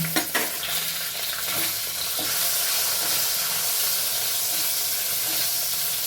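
Tomato hitting hot oil in a wok, already seasoned with black cumin seeds and dried red chillies, for a spicy boal fish curry: a sharp burst of sizzle at first, then a steady, loud hiss of frying with stirring, no talk.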